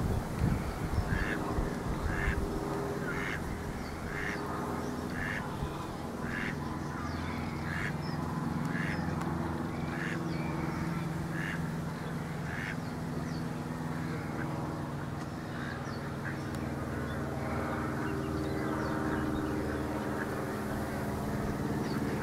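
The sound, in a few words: duck quacking on a reedbed walk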